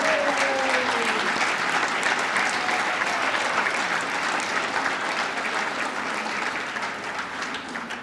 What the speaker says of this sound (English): Let's have a final round of applause for all our recipients here.